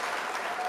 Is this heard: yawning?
no